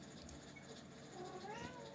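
A cat meows faintly in a room during a 3v3 gaming session, one drawn-out rising call near the end of a short stretch over low background noise.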